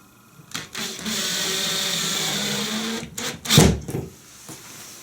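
A power drill drives screws into a ceiling during a C-FIX repair kit installation, with a steady whirring burst of a few seconds, then a short, louder second burst after a brief pause.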